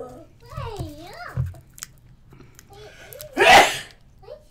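A single sharp sneeze bursts out loud and close near the end, after a stretch of high-pitched child-like vocalizing and soft mouth sounds.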